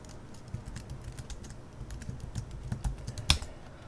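Password being typed on a computer keyboard: a quick run of light, irregular key clicks, close and fairly quiet, with one sharper key strike near the end and no voices.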